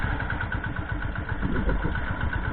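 A 1998 Royal Enfield Bullet motorcycle with a CI engine idles steadily, giving off a continuous, even low thumping rumble at close range with no speech over it.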